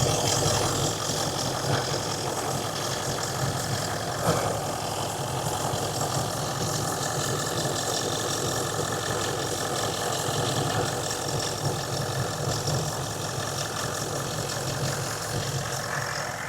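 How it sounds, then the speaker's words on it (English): A Range Rover L405 engine idles steadily, a smooth continuous rumble that holds an even level throughout with no voices. "What a sweet sounding engine"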